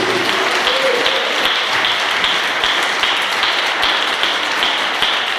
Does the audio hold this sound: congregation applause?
yes